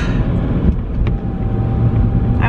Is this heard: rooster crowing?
no